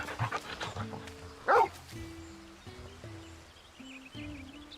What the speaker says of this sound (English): This is Torgal, a wolf pup raised in the duchy.